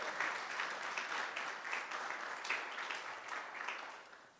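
At a guide dog class graduation, an audience claps for puppy raisers, donors and volunteers, a soft, continuous wash of applause from a room of people, somewhat distant and even throughout.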